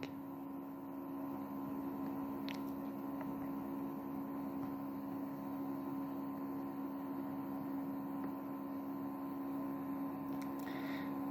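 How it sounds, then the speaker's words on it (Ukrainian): A circulation pump running on power from an HP T1000 G3 UPS gives a steady, even hum with a constant low drone and faint electrical buzz, unchanging for the whole stretch, with no voices. "Насос працює, немає додаткових шумів у його роботі"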